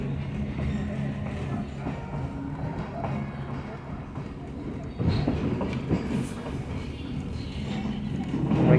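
A passenger train rolls along rails toward an old bridge, a steady rumbling clatter heard from inside a car, with people talking nearby.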